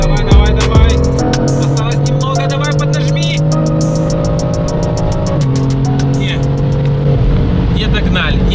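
A rear-wheel-drive Camaro SS and a BMW G20 race, with a loud, sustained engine drone climbing steadily in pitch, dipping briefly, then holding strong under a voice.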